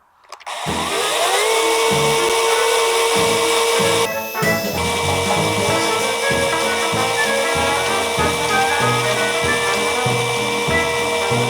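Grand APTs 20V cordless mini chainsaw switched on with a soft start, ramping quickly to a loud, steady high-pitched motor whine with a chain rattle, briefly dipping once before running on continuously up close.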